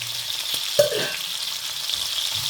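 Onion sautéing in a pan for tomato rice, a steady soft sizzle with a brief clink of stirring, close and without talk.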